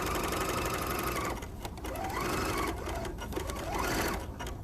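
A serger sewing machine runs fast and steadily while serging off the end of pillowcase fabric, a close, continuous whirring hum that briefly dips and restarts with no talk.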